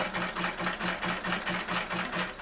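A sewing machine runs steadily nearby, stitching strands twisted together for a small basket, its needle clattering in a fast, even rhythm with a faint motor hum underneath.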